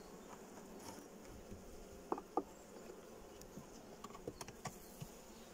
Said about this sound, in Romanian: Vreau să observ dacă albinele au acel tremurat din aripi